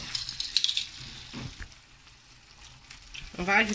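Garlic sizzles in a hot pan, a soft, steady frying hiss that comes and goes in bursts. Brief stirring clatter sounds near the end.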